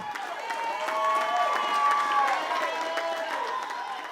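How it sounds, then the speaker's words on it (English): Cheering crowd of friends and family greeting a man as he leaves a rehabilitation hospital in Baton Rouge: sustained, fairly loud whoops, shouts and scattered clapping that swell through the middle and hold steady to the end. "greeted by a cheering crowd of friends and family"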